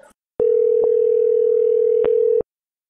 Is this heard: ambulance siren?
no